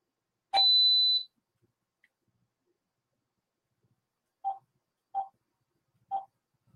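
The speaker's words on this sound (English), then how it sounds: "The phone just got disconnected." Phone call disconnect tones: a sharp electronic beep, then three short evenly spaced tones after a pause, clear and isolated in otherwise silent audio.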